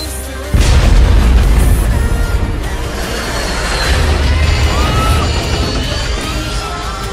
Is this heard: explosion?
yes